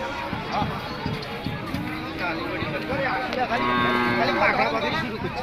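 Cattle lowing at the Nilphamari livestock market, drawn-out moos rising over a dense crowd murmur with people talking, bustling and fairly loud throughout.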